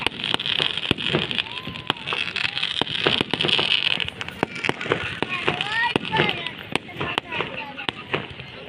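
Rapid firecrackers burst and crackle in a dense, irregular string of sharp pops, with voices talking faintly in the background.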